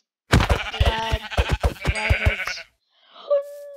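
Sheep bleat in Minecraft survival after a burst of quick footsteps and impacts, ending in a short wavering bleat. A player speaks briefly.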